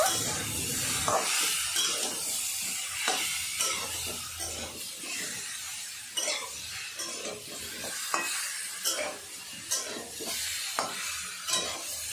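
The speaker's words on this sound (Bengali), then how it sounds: "হলুদ গুঁড়ো আর নুন দিয়ে দেব। আবারও হালকা নাড়াচাড়া করে নেব।" Mango chutney with turmeric and salt is stirred in a pan, giving repeated scraping, clattering strokes at an irregular rhythm over a soft background sizzle, fairly quiet and close.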